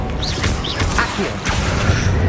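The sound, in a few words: Accio summoning spell in video game Hogwarts Legacy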